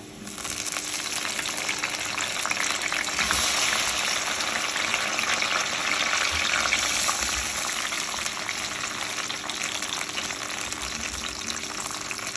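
Tomatoes frying in a pot of oil spiced with black pepper, bay leaves, black cardamom and cinnamon for chana pulao, a loud, steady close sizzle with bubbling texture throughout and no voices.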